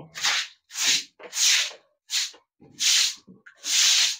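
Rhythmic rubbing scrubs with a loofah or scrub brush on a cow during bathing, six separate swishing strokes close by, each a loud hissing rasp followed by a short pause.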